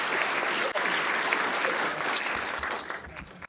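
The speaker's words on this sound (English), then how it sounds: "why don't we have a round of applause" Audience applause at the close of an evening astronomy talk: steady, dense clapping from a seated crowd, loud and continuous, briefly dipping once before thinning toward the end.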